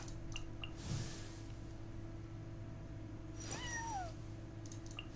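A cartoonish cat meows in a video game, a short call near the start and a longer rising-falling meow later, heard over a steady droning game soundtrack.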